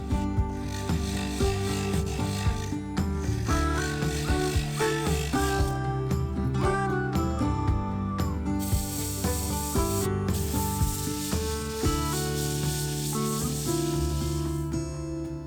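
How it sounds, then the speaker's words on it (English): A mahogany bowl spins on a lathe while abrasive paper moves through 80 to 400 grit, giving a continuous close rasping rub with ratcheting texture and machine hum throughout. "Then I sanded from 80 to 400 grit."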